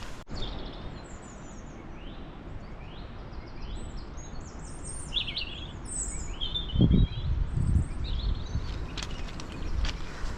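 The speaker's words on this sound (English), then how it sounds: "Lots of lovely bird song this morning." Birds sing and chirp in scattered high, bright phrases on a Lake District fell walk in the morning, fairly distant over steady wind and soft footsteps on a wet, boggy path.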